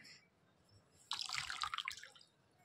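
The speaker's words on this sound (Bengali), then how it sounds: "ভিজিয়ে নিয়ে ভালো করে জলটা চিপে ফেলে দেবো" A soaked towel is wrung out by hand, with a short, faint burst of water splashing and dripping that lasts about a second in an otherwise quiet room.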